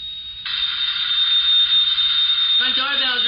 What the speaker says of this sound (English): Front doorbell's ringing.